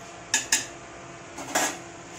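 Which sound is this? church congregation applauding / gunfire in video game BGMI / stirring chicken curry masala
stirring chicken curry masala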